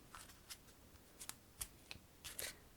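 A deck of playing cards being shuffled softly up close, a quiet series of crisp riffling flicks and snaps in irregular bursts, with no one talking.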